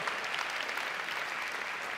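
Audience at a 2013 Pachamama Alliance luncheon breaks into dense, steady applause, a close, loud wash of clapping that holds evenly throughout with no speech over it.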